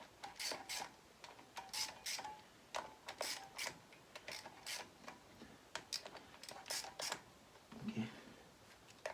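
Rapid ratcheting clicks in short bursts from a wrench tightening the clutch cover bolts on a Honda CL350 motorcycle, close and fairly quiet, with brief pauses between the runs.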